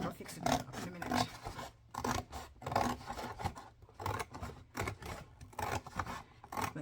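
Scissors cut roughly through thick cardboard for a journal, with close, uneven bursts of rasping, crunching snips separated by short pauses.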